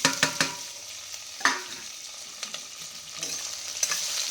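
Mustard seeds, cumin and curry leaves tempered in hot oil crackle and sizzle, with scattered sharp pops over a low frying hiss, close and moderately loud.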